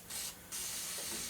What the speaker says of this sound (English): Let's get some penetrating oil in there.